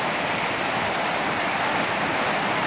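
A backyard stream rushes and gurgles in a steady, close, full-bodied wash of water noise with no pauses or voices.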